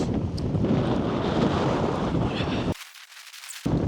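Strong wind buffets a microphone on a snowy winter hillside, a loud continuous roaring rush that drops away briefly before gusting back in.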